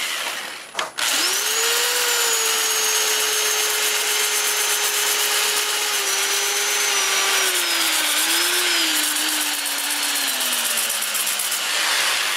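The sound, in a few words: sanding maple burl on running wood lathe, 80 grit sandpaper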